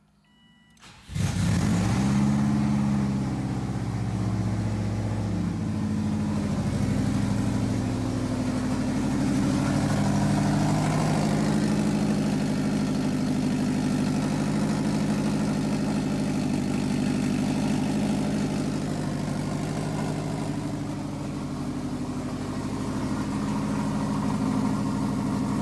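A 2006 Subaru 2.5i fitted with a swapped JDM WRX engine cranks briefly, catches and settles into a steady, loud idle that runs on close by with slight fluctuations; no voices.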